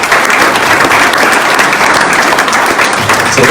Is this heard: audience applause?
yes